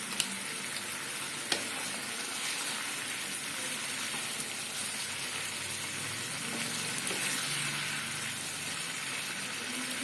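Cornflour slurry poured into a soyabean chilli gravy on the stove, which keeps up a steady hiss and sizzle throughout with a few small clicks, close by and without talk.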